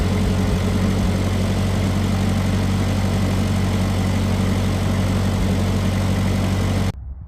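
A Farmall Cub tractor's engine idles in a loud, steady, close rumble that runs almost unchanged for about seven seconds, then cuts off abruptly, with no voices.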